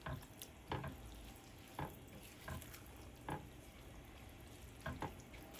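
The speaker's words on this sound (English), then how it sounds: "Stir and mix." Rice and lentils get stirred in a pot over sizzling heat, a spoon scraping and clanking in repeated strokes about a second apart, close and fairly quiet, with no voices.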